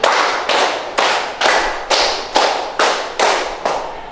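A classroom of students claps a rhythm pattern together in unison, eight loud, sharp group claps evenly spaced about half a second apart, with no talking.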